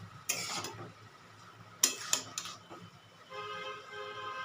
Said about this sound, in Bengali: দিয়ে এখন সর্ষে বাটাটা খুব ভালো করে মিশিয়ে নেব।